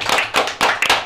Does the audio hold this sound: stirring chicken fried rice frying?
no